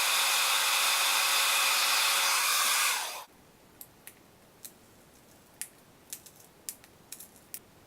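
A hair dryer heats an eyeshadow palette to remove its pans, blowing loud and close for about three seconds before switching off, followed by a quiet run of small scattered clicks and taps.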